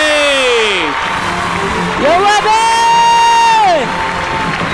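An awards celebration crowd whoops and cheers loudly for the Entertainer of the Year, with rising and sustained shouts over continuous applause and hall noise.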